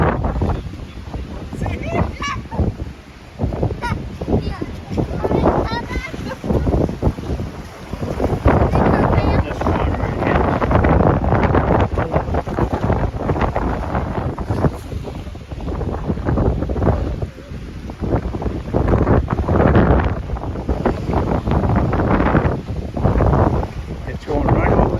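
High winds at Lake Chapala, with steady gusting roar and wind buffeting on the microphone plus water churning against a dock, continuous and loud for the whole stretch.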